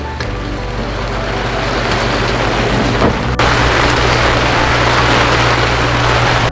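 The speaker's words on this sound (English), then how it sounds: "The rain is coming down." Steady, loud rain pouring down outdoors beside a covered picnic area, a dense continuous hiss with a low constant hum underneath and a brief thump midway.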